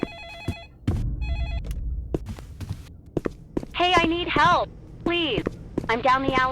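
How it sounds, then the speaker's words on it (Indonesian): In the Roblox game Ice Cream Shop, a telephone gives short electronic rings in two bursts, followed by clicky footstep sounds and a voice speaking over the game. "Ada bunyi telepon."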